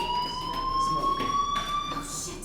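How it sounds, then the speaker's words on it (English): A fire alarm sounds a steady, continuous electronic tone through the whole moment, moderately loud, with faint background noise and a brief rustle behind it. "do you hear that fire alarm?"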